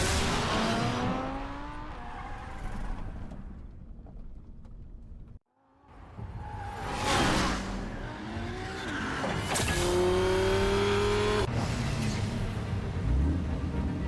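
A car in the Batman Telltale Series game speeds away with loud revving, rising engine pitch and tire squeals, cut by a brief drop to near silence before the engine roars on.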